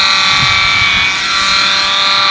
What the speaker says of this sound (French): On allume sa tondeuse, on prend toujours à rebrousse-poil.